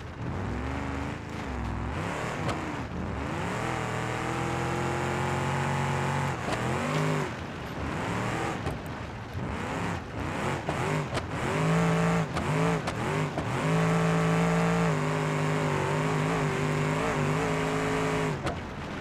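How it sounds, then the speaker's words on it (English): Engine of a four-door police sedan revving in the BeamNG driving game, a loud continuous drone with rising and falling pitch sweeps as the car accelerates and shifts throughout. "This car's so much fun."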